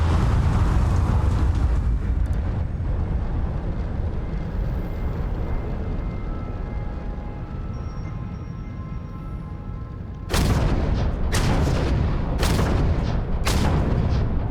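A ship engine in the video game Starfield roars as a loud, dense low rumble that swells and settles, then gives way to a rapid run of sharp booming rocket or weapon blasts near the end.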